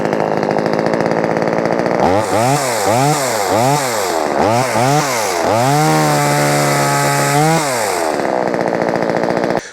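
A cheap Vevor top-handle chainsaw engine revs up and down repeatedly, rising and falling in pitch, then holds a steady high whine before dropping back to idle; loud and close.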